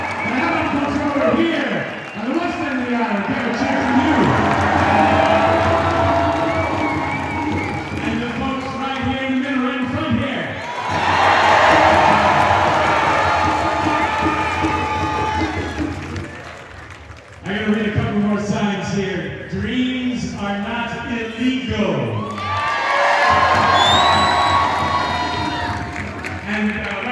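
A large crowd at an outdoor No Kings rally in Alameda cheers and shouts in swelling waves, loud and sustained, dipping between bursts, with voices prominent throughout.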